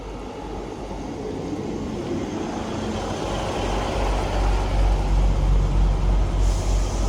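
A Northern class 158 two-car diesel unit draws into a station, its rumble rising steadily with a broad hiss of air brakes building toward the end, close and fairly loud with no talk.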